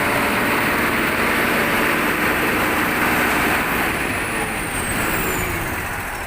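A Fuso 6M70 wing van truck's diesel engine runs steadily after a turbocharger replacement, a loud, close, continuous rumble with a broad hiss and no voices over it.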